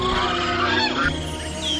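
Ducks on a small village farm give loud, continuous nasal calls up close, with no human voices.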